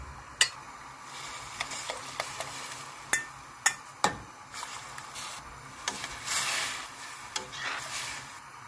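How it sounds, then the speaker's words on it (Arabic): A spoon clinks and scrapes in a small bowl while tomato paste is stirred and dissolved in hot water, with several sharp taps followed by a steady, fainter scraping. "أضيف عليهم مي حار وأذوب المعجون قبل ما أضيفه على البامية"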